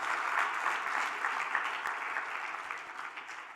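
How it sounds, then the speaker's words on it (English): An audience at a youth meet breaks into warm applause, a dense, steady wash of clapping that stays loud throughout and fades slightly toward the end. "Let's give them a warm round of applause."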